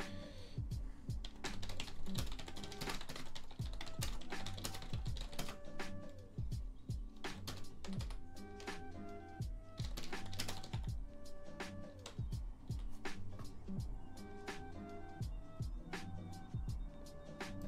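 Rapid keyboard typing on a computer keyboard, steady clattering keystrokes close to the microphone, continuous and alone without talk.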